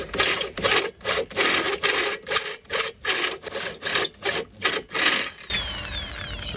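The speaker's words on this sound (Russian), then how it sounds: "Дрель не справляется." An electric drill strains as it bores into a metal profile on a Subaru fifth-wheel test rig, a loud, rhythmic grinding that surges and dips roughly every half second before settling into a steadier whine.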